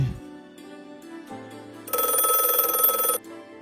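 A telephone rings as a drama sound effect, with a bright, trilling electronic ring lasting about a second, moderately loud over soft background music, and no speech.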